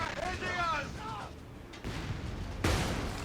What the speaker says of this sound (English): Let's use the barrage ability.